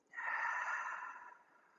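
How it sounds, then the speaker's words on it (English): A single slow, breathy exhale during beginner yoga breathing, close and soft, swelling quickly then tapering off over about a second and a half with no talk. "One more breath here. Exhale slowly."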